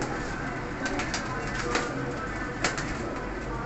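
Pigeons, a pair of fancy birds kept for sale in Faisalabad, coo and rustle steadily in a noisy loft, with soft repeated calls close by and a few brief sharper bursts.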